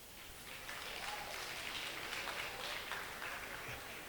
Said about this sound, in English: Women, clap for yourselves.